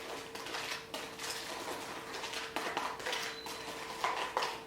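Coffee grounds being mixed into aloe vera in a bowl, soft continuous scraping and light clinks of a utensil against the dish, quiet and close.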